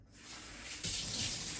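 Water runs steadily from a tap, gushing louder as the flow increases partway through, a close and continuous splashing hiss with no talking.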